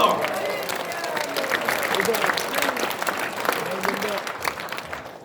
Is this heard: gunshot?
no